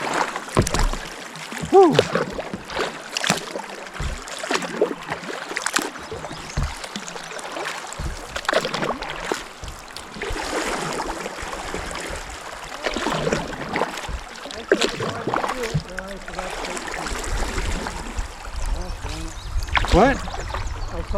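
A canoe moves down the Gasconade River with paddles splashing and water rushing and trickling around the hull, close and continuous, while people talk and call out over it.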